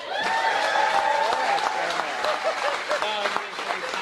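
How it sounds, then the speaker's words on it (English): Audience applauding for Mark and Tammy Litt, hosts of a Lake County Hot Ones competition, with sustained clapping and cheering under loud talk and voices throughout. "A big round of applause for Mark and Tammy Litt for hosting this again"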